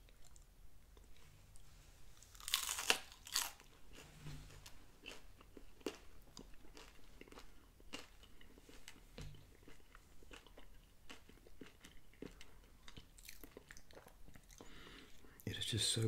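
Crunchy bites and chewing of deep-fried Taco Bell rolled chicken tacos, close and intimate, with a loud crackling bite early on and steady soft chewing crackles throughout, no talking.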